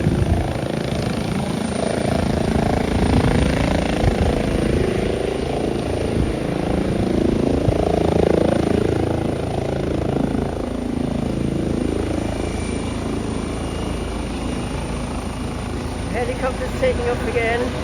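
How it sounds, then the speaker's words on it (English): A helicopter's rotors thud and its engine roars steadily, loud and close, as it lifts off, with a voice talking over it. "Helicopter's taking off again."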